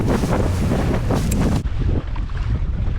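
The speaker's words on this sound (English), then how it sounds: "thank goodness the boat's started" A fishing boat's engine rumbles over heavy wind buffeting the microphone, with a low steady drone continuing after the gusts ease.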